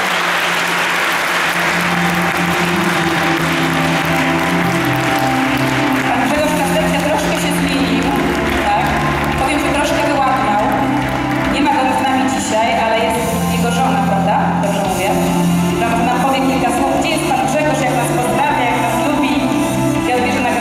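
Audience applause at an awards ceremony, a loud, sustained wash of clapping from a large crowd, steady throughout, with music or voices faintly underneath.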